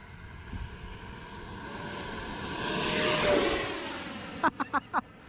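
An E-flite Viper RC jet taking off, its ducted-fan whine rising and swelling into a broad roar before fading, followed by several sharp close knocks near the end.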